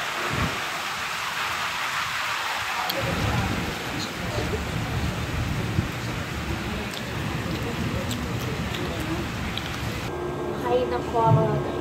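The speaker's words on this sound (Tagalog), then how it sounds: "Ang lakas ng ulan." Heavy rain pouring down outside a home, a dense steady hiss of falling water with low rumbles beneath, continuing without a break; a voice speaks faintly at moments.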